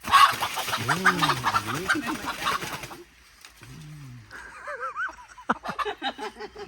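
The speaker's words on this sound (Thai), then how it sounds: "ไก่บ้า" Chickens on a Thai farm cluck and squawk in bursts, with loud fowl calls up front, a short quiet gap, then sharper excited clucks and flapping sounds close by.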